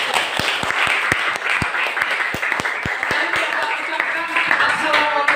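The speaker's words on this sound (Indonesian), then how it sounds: "Tepuk tangan buat kalian." A classroom full of students claps at the close of a mathematics lesson, steady dense applause with sharp individual claps standing out, mixed with a murmur of voices.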